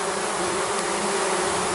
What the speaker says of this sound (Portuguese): E eu estou no meio, literalmente, desse grande enxame de abelhas.